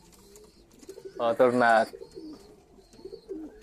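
A male pigeon gives a short burst of throaty cooing, close and fairly loud, amid quiet surroundings, with a person speaking briefly.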